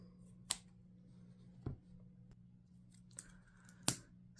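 Scissors trim knitting yarn in a few quiet, sparse snips, four short separate cuts over a low steady background hum.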